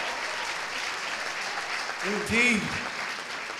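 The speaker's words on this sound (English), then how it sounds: "Clap your hands for everybody in this building." A church congregation claps together at a live worship event, with applause swelling briefly over a steady, diffuse crowd background while a voice speaks a word.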